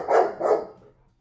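A pet dog gives two short, close barks in quick succession indoors in a newly moved-into house, with a brief fading tail after.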